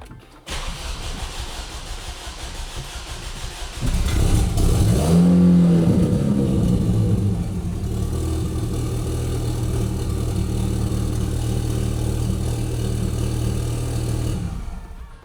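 A car engine, freshly swapped into the car, cranks and fires up, then revs hard and settles into a steady loud idle, close by with no talk over it.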